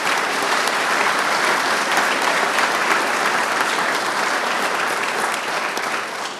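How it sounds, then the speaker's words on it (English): Sustained applause from an audience at a public power week event, dense and loud clapping that holds steady before easing slightly at the end. "So would you join me in giving them a round of applause?"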